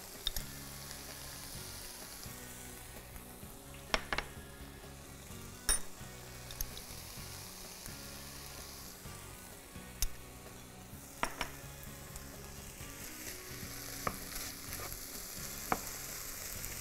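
Chicken and mushrooms sautéing with spices, salt and pepper in a pan, a steady close sizzle with occasional sharp clinks of a utensil stirring against the pan, no voices.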